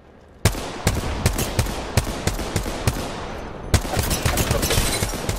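Sharp gunshots in the battle royale game Apex Legends, a sudden first crack followed by a steady rhythm of loud, evenly spaced shots, then a denser burst of rapid fire toward the end.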